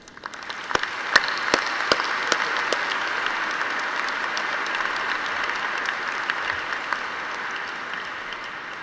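Sustained applause from a large audience at a 2017 Penn Engineering commencement, steady clapping that swells quickly and holds through the whole stretch, with a few sharper claps standing out near the start.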